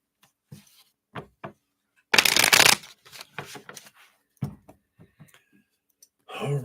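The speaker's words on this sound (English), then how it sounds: "Let me shuffle these real quick here." A deck of cards being shuffled up close, a loud riffle burst in the middle among scattered taps and clicks, with brief soft voice sounds.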